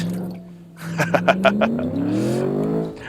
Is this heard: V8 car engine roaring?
yes